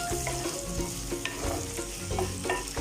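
Sliced onion and curry leaves sizzle and hiss steadily in hot oil as a Wayanad pepper beef base gets sautéed. A few clicks of stirring sound against the pan, and nobody talks.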